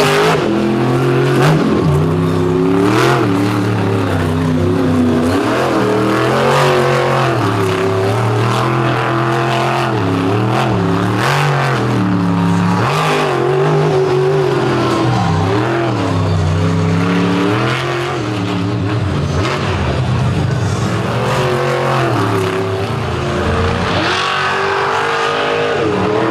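Monster truck engines rev hard and continuously at a beach show, a loud, dense roar with rising and falling pitch sweeps throughout, sustained without pause.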